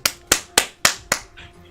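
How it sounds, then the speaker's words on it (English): Five sharp hand claps in a steady, evenly spaced rhythm, close and loud, followed by a softer trailing sound; no one speaks. "You ever clap and then you regret it?"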